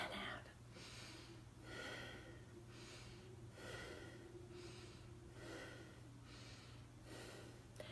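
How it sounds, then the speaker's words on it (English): Children in a circle-time group doing five-finger breathing, slow rhythmic breaths in and out repeated about seven times, airy and soft with a steady low hum underneath. "They breathe in and out."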